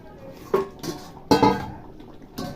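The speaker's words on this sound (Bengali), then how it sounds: "ঢাকা চাপা দিয়ে দিলাম" A metal lid is set onto a cooking pot of meat simmering in water, giving a few sharp clinks and clanks close by with quiet gaps between.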